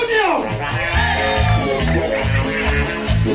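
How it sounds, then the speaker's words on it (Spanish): A party crowd at a birthday show lets out a loud, rising group shout that carries on over thumping, beat-driven music, with an announcer's voice mixed in. "Y el grito de las tías picoteras de Josep Antonio."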